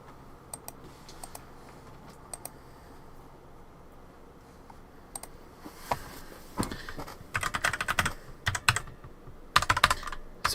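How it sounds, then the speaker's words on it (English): Fast, uneven keystrokes on a loud mechanical keyboard, sparse clicks at first, then dense bursts of rapid typing close to the mic over a low background hum. "I've got a really loud mechanical keyboard now."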